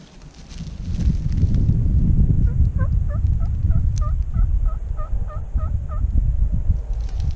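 Two wild turkey toms gobble across a field in repeated bursts, the distant gobbles rolling one after another over a steady outdoor background with no talking.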